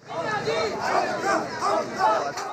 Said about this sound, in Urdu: جیل کے باہر کارکن بھی اکٹھے ہوئے اور نعرے لگا کر رہنماؤں کے ساتھ اظہار یکجہتی کیا۔